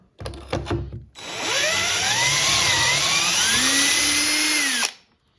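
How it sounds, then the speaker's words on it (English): A power drill whirs steadily for several seconds at close range, boring shelf pin holes in wood through a Kreg jig, its pitch wavering slightly, after a brief burst of clattering handling noise. "we can just simply put the jig over top and hold it down, and we can drill"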